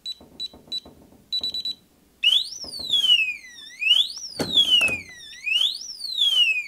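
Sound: ADIMO safe alarm going off

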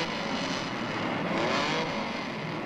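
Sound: race car engines starting before the race

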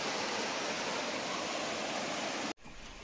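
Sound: fast-flowing water after a landslide

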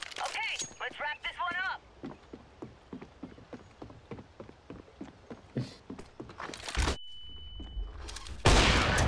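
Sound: flashbang grenade going off in CS:GO video game

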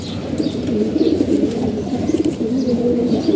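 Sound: pigeons cooing

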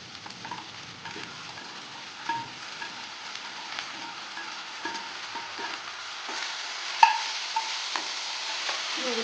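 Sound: green chilli, garlic, onion and chopped pineapple frying in a pan

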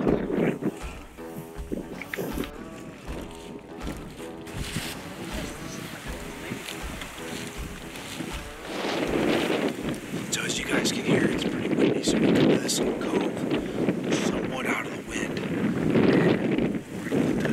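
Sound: wind blowing in Missouri timber

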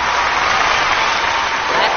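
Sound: applause for the aunties and ladies on a TV show

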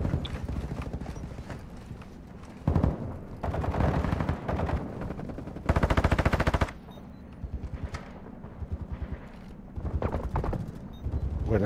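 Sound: gunfire in a video game

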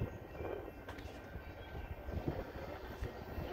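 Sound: Union Pacific commuter train arriving at Geneva station

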